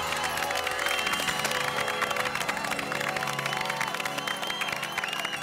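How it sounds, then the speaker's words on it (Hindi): An audience claps and cheers at a Children's Day celebration, continuous crowd applause with scattered shouts and voices mixed through it, fairly loud and sustained. "हम एक बार और जोरदार तालियां बजाएं"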